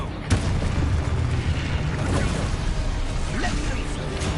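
Confringo blasting spell going off in the Hogwarts Legacy video game, a sharp boom followed by rumbling blasts and crackling debris, with a voice talking over it.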